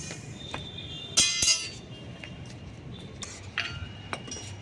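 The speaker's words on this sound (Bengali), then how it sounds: "1 বাটি সুজি নিয়েছি, শুকনো কড়ায় আমি ভালো করে ভেজে নেব" Semolina is dry-roasted in a dry pan and stirred, giving scattered light scrapes and clinks of a utensil against metal over a quiet background, with one louder cluster of knocks near the middle.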